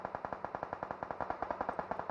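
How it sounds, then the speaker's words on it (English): AKM rifle fire in the mobile battle royale game PUBG Mobile: a rapid, evenly spaced automatic burst of roughly twenty shots, moderately loud and steady, with no voices. "Hitman taking shots with that AKM as well."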